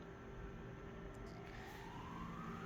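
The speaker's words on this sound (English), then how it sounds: "You can hear sirens, folks." Faint emergency sirens wail in the distance, a thin tone slowly rising over a steady background hum.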